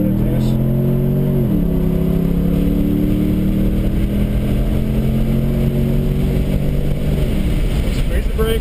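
A race car on the Harris Hill road course holds a loud, steady engine drone close by, its pitch dipping briefly before it settles into sustained acceleration under full throttle.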